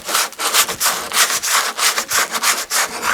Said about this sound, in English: plastic form seams, I'll be sanding them